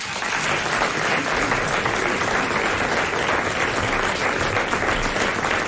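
A studio audience on a 1995 French television show applauds Jacques Martin with steady, dense, loud clapping that holds evenly throughout with no voices.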